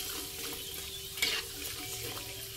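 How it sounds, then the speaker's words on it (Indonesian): Macaroni fries in oil over medium heat while being stirred, giving a steady loud sizzling hiss with a brief scraping clatter midway and no voices. "Kita gorengnya sambil dikorak-karik dengan api sedang."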